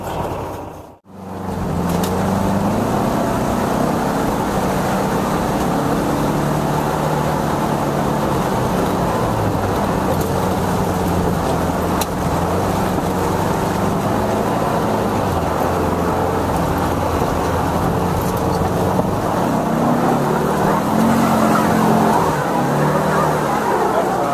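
A Volkswagen Beetle engine straining on a muddy trial section, a loud steady drone with shifting revs as the wheels spin, running continuously throughout.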